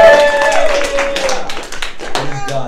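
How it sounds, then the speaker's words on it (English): Church congregation clapping for Harvey during a service, a brief patter of hand claps mixed with voices and sustained tones, loud and close at first, then thinning out. "Somebody ought to give him a hand clap."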